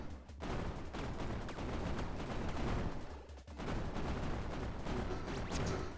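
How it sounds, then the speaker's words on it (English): Spread gun firing in a Contra-style shoot'em up video game with a cyberspace setting: a dense, continuous burst of rapid electronic shots, loud and steady, with a brief dip before the barrage resumes. "here's spread gun, like classic Contra style spread gun"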